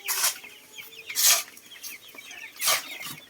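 Chickens clucking in a poultry house, several loud bursts of squawking and clucking close by, spaced about a second or more apart with softer murmuring calls between.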